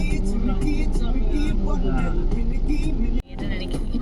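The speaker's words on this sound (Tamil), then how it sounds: "என்ன சார் டிராஃபிக் இப்படி இருக்கு?" Congested road traffic crowded with lorries and a bike stuck in the middle, engines rumbling and horns sounding close by while people chat over the noise.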